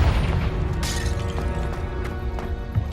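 The Confringo fire spell in the game Hogwarts Legacy bursts with a dense, rumbling boom, followed by sustained crackling blasts and a few sharper pops that fill the whole stretch.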